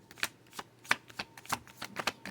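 Stiff tarot cards being shuffled by hand in quick riffling bursts, four or five crisp rustling flurries at a steady rhythm, close and fairly quiet with no talking.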